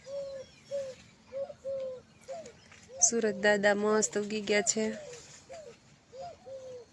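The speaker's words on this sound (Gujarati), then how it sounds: "અને પક્ષીનો અવાજ આવે છે" Soft, repeated dove-like coos at a steady rhythm throughout, with a stretch of close talking in the middle over the calls.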